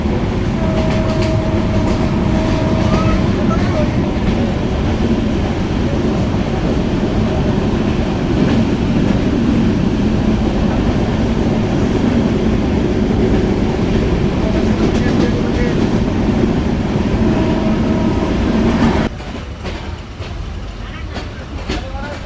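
A train running from Joypurhat toward Natore rolls past Jamalganj station without stopping, a loud, steady, close rumble of wheels and carriages that drops suddenly in level near the end.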